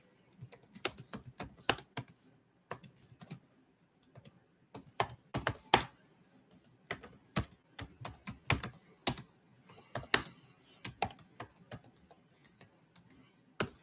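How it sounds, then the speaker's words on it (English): Typing on a computer keyboard, close and fairly quiet, with irregular clusters of sharp key clicks and short pauses between bursts, steady for over ten seconds with no voices. "I'm just typing something."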